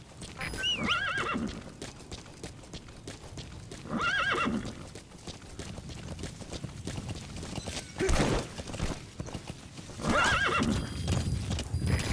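Horse hooves clip-clop steadily while a horse neighs loudly several times, with whinnies spaced a few seconds apart, in the video game Metal Gear Solid V: The Phantom Pain.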